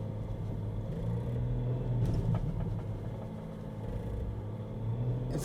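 4x4 dual-cab ute engine laboring up a churned-up off-road track. A steady, low, close rumble holds under load, with slight swells and bumps as the vehicle climbs.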